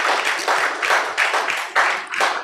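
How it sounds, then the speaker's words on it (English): Conference attendees at an agriculture event in Lagos applaud in surging waves of dense clapping that swell and ease several times, fairly loud and close, with no talk over it. "Please give her a round of applause"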